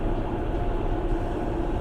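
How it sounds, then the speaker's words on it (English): Steady low rumble and rattle of a passenger train riding along on a windy February day, heard from inside the carriage as a continuous, fairly loud drone with no talk. "We're on the train."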